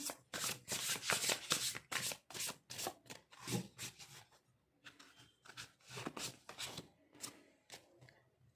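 Tarot cards shuffled and handled in quick, papery riffles and rubs, close and fairly loud, coming in bursts with short pauses between them.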